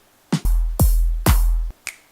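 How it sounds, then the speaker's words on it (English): Electronic dance music snare hits for a drop, with bass frequencies filtered out: three punchy, bright snare strikes with sustained noisy tails in an even rhythm, followed by a short fourth hit, loud and alone. "let's go on our snare sound"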